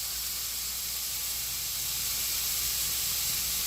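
Strips of bacon frying in a pan until crispy, a loud, continuous bright sizzle and hiss that swells slightly toward the end, close up with no talking.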